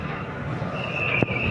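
An RER B commuter train running through outer Paris near Fontaine-Michelon gives a steady rumble, a long high wheel squeal and one short sharp knock near the end.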